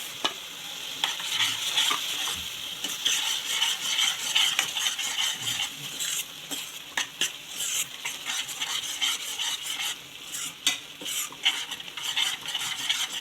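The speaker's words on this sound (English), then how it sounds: "Add both into that and give a quick mix." Turmeric and coriander powder stirred into prawn masala frying in a pan: a steady close sizzle with continuous scraping and rasping of the spoon against the pan throughout, no voices.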